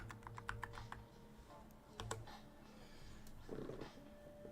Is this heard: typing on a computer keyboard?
yes